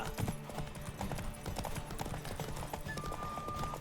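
A horse gallops in the Witcher 3 video game, its hooves pounding in a fast, steady clip-clop. The hoofbeats carry on without a break under a wash of wind and background game sound.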